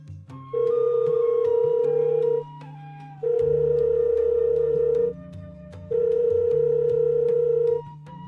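Ringback tone of a phone call in an animated cartoon: three long, loud steady tone bursts in a regular ring-pause rhythm, with a faint musical background underneath.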